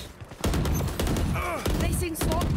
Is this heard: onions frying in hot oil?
no